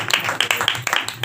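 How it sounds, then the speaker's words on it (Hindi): A church congregation at a Christmas Day service claps loudly, with quick, sharp, uneven hand claps packed into a brief burst. "जोरदार तालियां बजाते रहे।"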